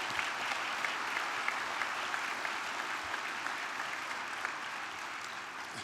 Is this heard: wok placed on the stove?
no